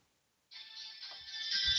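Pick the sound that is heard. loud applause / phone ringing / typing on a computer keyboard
phone ringing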